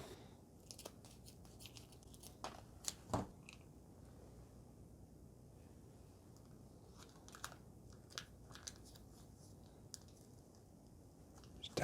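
Scissors snip open a Samyang Buldak cheese sauce packet with several sharp, close cuts and crisp clicks against a quiet background.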